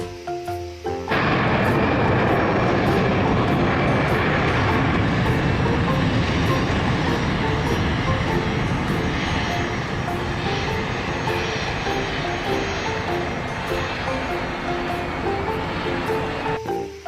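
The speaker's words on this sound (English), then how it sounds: "Airplane." An airplane engine sound effect from a children's toy vehicle sequence: a loud, continuous roaring drone that starts abruptly and holds steady for about sixteen seconds.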